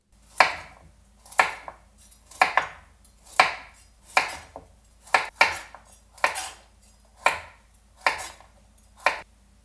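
A knife chops vegetables for a Japanese chicken curry on a cutting board, about ten distinct, evenly spaced strokes, each a sharp close knock with a short scraping tail, without any talk.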